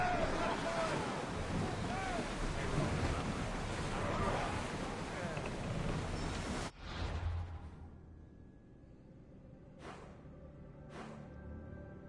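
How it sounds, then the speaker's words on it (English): In Assassin's Creed Odyssey, a sailing ship moves at sea amid a dense rush of wind and water that cuts off abruptly, leaving quieter game ambience with a couple of brief bursts, while voices speak. "Let's set sail!"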